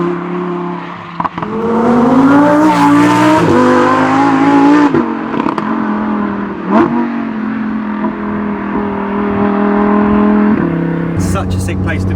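A Lamborghini Huracan Performante with all-wheel drive accelerates hard up through its gears. The loud, rising engine note breaks off at each quick upshift and climbs again.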